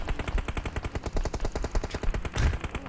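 Rapid automatic gunfire rattles in a steady, evenly spaced stream during a PUBG Mobile esports match, with a heavier burst near the end. The shots are loud and close, and no voices are heard over them.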